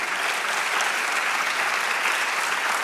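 Church congregation applauding, dense and steady clapping at even loudness for a few seconds with no talk over it.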